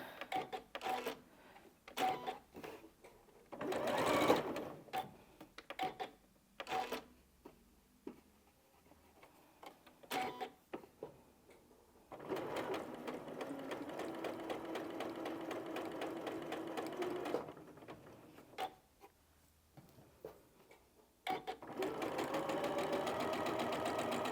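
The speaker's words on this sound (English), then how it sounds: "let's just take those to the machine and sew" Sewing machine stitching quilting squares, its motor running in short bursts early on, then in a long steady run and a final stretch, with small handling sounds in the gaps.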